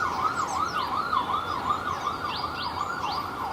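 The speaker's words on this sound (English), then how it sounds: "oh, there's that siren." A wailing emergency siren passes outside, its rising and falling tone steady and moderately distant over a low traffic hum, with no talking.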